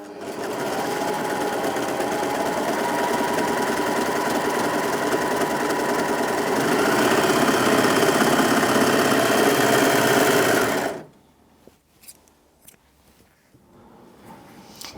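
A Brother 3034DWT overlocker stitches a stable, cotton-like fabric with a loud, steady mechanical whir that runs for about eleven seconds, then stops abruptly, leaving a quiet room with a few faint handling clicks.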